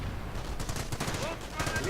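A mine detonates amid a rattle of gunfire in a strategy video game, with scattered shots and bursts running continuously beneath a commentator's steady talk.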